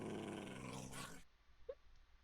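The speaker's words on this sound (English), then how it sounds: "You're hurting my dog." A pet wolf in Minecraft, hurt during play: a loud, rough, sustained growl for just over a second, followed by quieter rustling and one short, sharp yelp.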